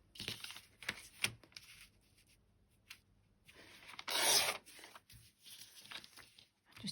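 Old paper catalogue page being trimmed at its edges, with soft rubbing and rasping scrapes in short bursts and one louder crisp cutting sweep near the middle, close and fairly quiet.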